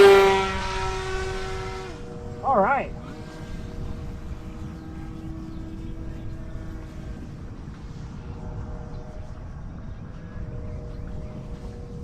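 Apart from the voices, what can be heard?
RC airplane flying overhead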